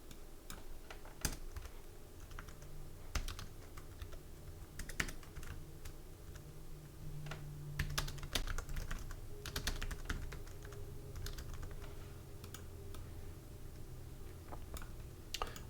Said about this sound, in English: I'm going to make a message box by typing the letter M.